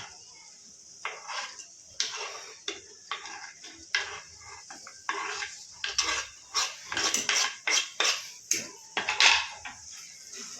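A spoon scrapes and knocks against a metal pot over and over while stirring paneer into a black masala curry, the strokes getting quicker and louder toward the end.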